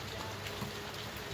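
Steady rain falls outdoors, a dense, even hiss of drops hitting surfaces that holds at a constant, moderate level with no voices over it.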